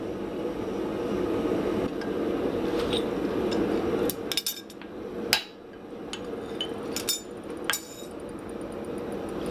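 Hammer blows on the peen of a small forged anvil maker's hammer to straighten it, struck over a constant loud background roar, with a few sharp ringing impacts in the middle.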